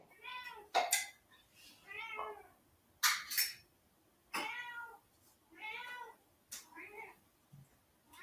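A pet cat meows in a string of short, repeated calls while it is fed, with sharp clinks of a dish or utensils in between, close and clear.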